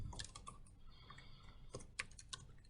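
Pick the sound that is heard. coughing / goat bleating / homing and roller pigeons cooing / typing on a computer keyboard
typing on a computer keyboard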